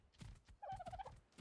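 A max-level chicken in the video game Ark gives a short run of clucking, gobbling calls between soft thumps, close and fairly clear.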